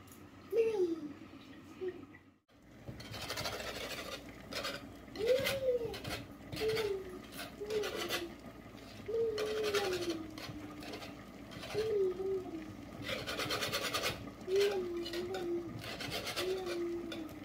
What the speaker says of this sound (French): je vais mélanger avec le fouet pour pas me brûler parce que c'est un peu chaud